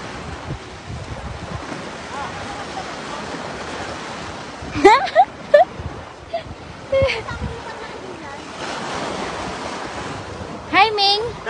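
Sea waves wash and rumble steadily with wind noise, while people talk intermittently and occasional short cries rise above the surf.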